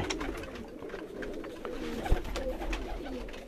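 Low, rolling coos come from a pair of breeding pigeons, a Lakhi female with a Ferozpuri male, nearby on a rooftop, with light rustles and a single soft thump midway.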